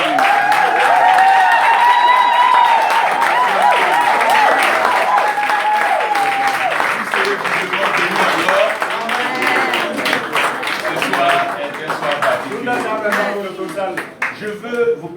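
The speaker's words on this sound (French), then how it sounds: "je demande à tout le monde d'acclamer le Seigneur pour la maman" A church congregation applauds and cheers loudly and steadily, dense clapping from a crowd filling the space throughout, easing slightly toward the end.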